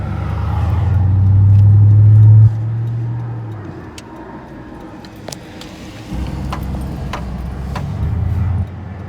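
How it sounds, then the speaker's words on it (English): A car driving on the road gives a steady, close engine drone that swells loudly over the first few seconds, then settles into a lower even hum with small rises, and nobody speaks. "I got to pay attention to driving now"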